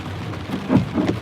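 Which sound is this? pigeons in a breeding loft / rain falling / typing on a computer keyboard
rain falling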